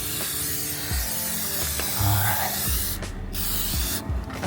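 Fluid Film rust-prevention undercoating is sprayed from an aerosol onto the frame of a Toyota Tacoma. The steady, loud hiss is close up and continuous, with brief pauses and faint clunks of handling.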